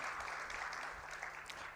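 A short stretch of continuous crowd applause for a professor at a budget review dinner session, many hands clapping together at a steady, moderate level with no pause.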